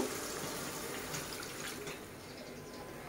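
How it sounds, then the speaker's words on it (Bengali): Water poured into a pan of cooking rooftop-garden vegetables, heard as a steady close liquid pour with a faint trickling texture, no voices present. "এখন হচ্ছে পানি দিয়ে দিব"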